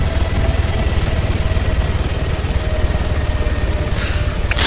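Helicopter rotor and engine drone in the video game Arma 3 Altis Life, a steady, loud low thrum that runs without a break and has no talk over it.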